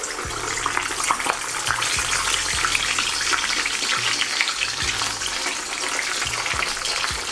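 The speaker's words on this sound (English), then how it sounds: "it's gonna be a quick fry until we have a nice crispy, golden color" Korean fried chicken pieces bubble in hot oil at around 180–190 degrees, giving a loud, continuous crackling sizzle that stays even and close throughout, with no talking.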